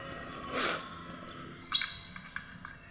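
Caged goldfinches and canaries on a rooftop chirp and tweet in short, scattered calls, one sharp chirp standing out close by against a quiet, faintly noisy background.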